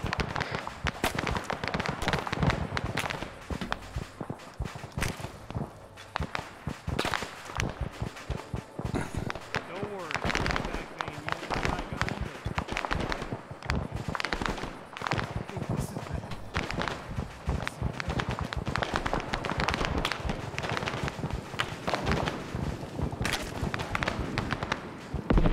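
Heavy gunfire in the Vietnam War game Arma 3 S.O.G. Prairie Fire, a dense, continuous crackle of rapid shots and bursts lasting throughout, loud and close, with voices talking over it.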